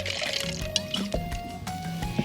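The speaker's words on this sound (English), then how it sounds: "Pour some in a shaker." Ciroc Summer Watermelon Vodka poured into a cocktail shaker, a close, steady liquid fill with small splashes and drips over about two seconds, no talking.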